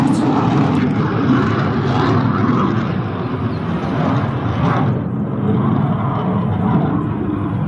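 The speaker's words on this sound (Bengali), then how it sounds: "এটা কোনো এয়ারক্রাফট উড়ছে, তার আওয়াজ পাওয়া যাচ্ছে।" A fixed-wing aircraft with engines passes overhead near a naval aviation museum in Goa, making a loud, continuous engine roar and rumble that holds steady, then eases slightly in its upper tones near the end.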